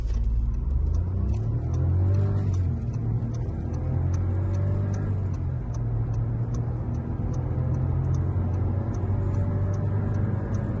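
A Skoda Scala 1.0 TSI with a DSG gearbox accelerates at full throttle. The engine drones steadily and loudly from inside the cabin, with a faint regular ticking above it.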